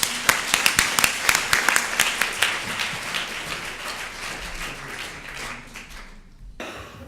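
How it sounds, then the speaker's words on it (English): Sustained applause from a conference audience at a Women in Data UK presentation, dense clapping that starts strong and gradually thins out before fading near the end. "And I'd like you all to join me in a round of applause to welcome Edwina Dunn, the Godmother of Data."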